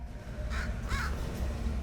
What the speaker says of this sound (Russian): Птица, убей ее, она плохая.